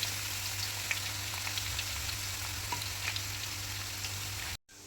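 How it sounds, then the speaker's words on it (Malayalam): Onions fry in hot oil in a pan with a soft, steady sizzle and faint crackles over a low background hum, ending abruptly. "പാനിൽ ഓയിൽ ഒഴിച്ച് ചൂടായതിനു ശേഷം നമ്മൾ പൊരിക്കാനുള്ള സവാള ഇട്ട് കൊടുക്കാം"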